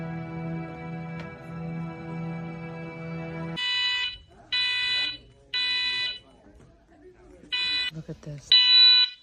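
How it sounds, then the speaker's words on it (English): A loud, high-pitched electronic alarm blares in repeated short bursts during a movie screening in a theater, cutting off the film's soundtrack and sounding five times with brief gaps while a voice speaks briefly. "it literally, this alarm just starts going off"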